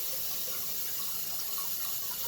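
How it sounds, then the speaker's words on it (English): Tap water runs steadily into and over a David's Tea Perfect Pitcher as it is rinsed, a soft, even hiss and splash held close and unbroken, with no talking. "I might as well rinse this out a little bit, just so you know it's all nice and clean."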